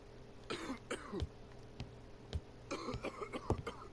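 A male character in The ABC Murders video game coughs repeatedly in rough, hacking bursts, a handful of separate fits spread across the stretch over a faint steady background hum.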